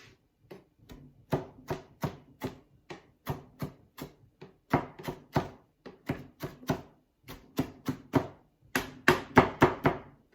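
A knife chops ingredients for a Thai curry on a cutting board in a series of sharp, close, irregular taps that speed into dense bursts toward the end, with no talking.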